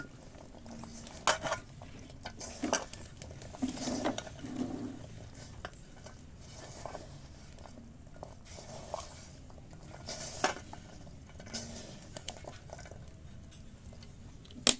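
Onion pakoda batter of gram flour and sliced onion being stirred and mixed in a bowl, with soft wet squelching, scraping and occasional clinks of the bowl recurring at irregular intervals, close and fairly quiet.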